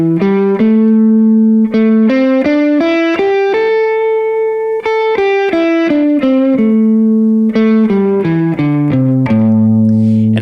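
Electric guitar runs up and back down through the first position of the minor pentatonic scale, clean single notes in a steady stepwise pattern, loud and close with no talking.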